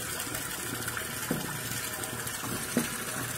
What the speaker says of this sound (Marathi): हे बघा हे पाणी लागलं आहे